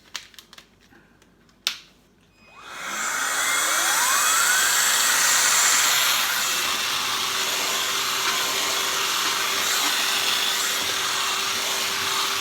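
A Numatic Henry cordless vacuum fitted with its small turbo brush switches on after a brief clatter and runs with a steady, loud whine that holds until the end.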